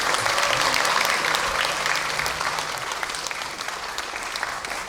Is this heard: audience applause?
yes